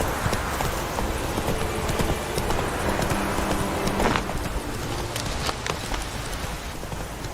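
Roach, the horse in The Witcher 3, trotting with steady, rapid clip-clopping hooves that persist close and loud from start to finish over a dense background wash, with no talk.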